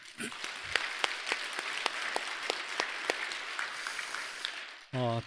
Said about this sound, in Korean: 오늘 그 수상하실 3분께 뜨거운 박수 부탁드리겠습니다